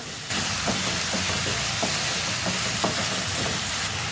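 Onion sautéing with a pinch of salt in a pan for boiled egg bhurji, giving a steady broadband sizzle with soft irregular scraping taps of stirring, close and alone without talk.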